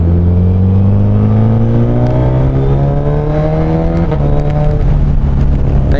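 A Suzuki Hayabusa fitted with a Brocks Penta carbon full exhaust system revs up loudly and steadily close by, its engine note rising through the run before easing off with a few crackling pops near the end.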